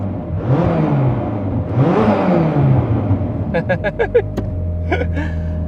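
A car engine revs twice with rising and falling sweeps, and then gives a few short, sharp blips. Voices are heard between and after the revs.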